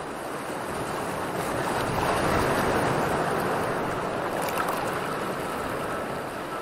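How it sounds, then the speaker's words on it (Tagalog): Steady roar of surf washing onto a shore, continuous and fairly loud with a broad hiss of breaking water throughout. "ang paghampas ng alon sa dagat"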